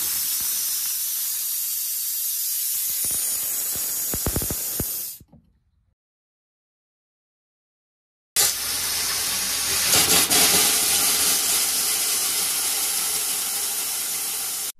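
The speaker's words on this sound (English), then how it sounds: "Once no water is running and just air is coming from the faucet, close the faucet before moving on to the next faucet." Compressed air blasts water out of an RV faucet during a winterizing blow-out, a loud sputtering hiss that cuts off into silence, then resumes as a steady rushing blast of air.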